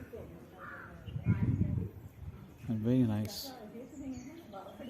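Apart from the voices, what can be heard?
birds chirping and crows cawing at a garden memorial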